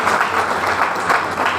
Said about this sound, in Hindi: तालियां होना चाहिए दोस्तों